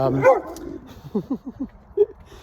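A dog outdoors on a freezing morning of about 20 degrees Fahrenheit gives a short series of yips and barks, close by, after a brief stretch of speech at the start.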